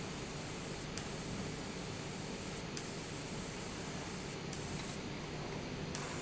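A Gundam Marker airbrush sprays paint in a steady, close hiss that runs without a break. A few faint clicks sit on top of the spray.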